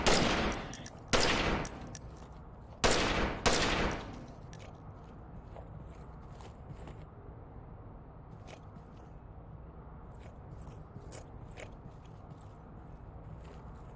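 Gunfire from weapons on a firing range in the VR shooter game Onward, a few sharp loud shots and short bursts early on, then quieter scattered clicks and handling noises over faint background hiss.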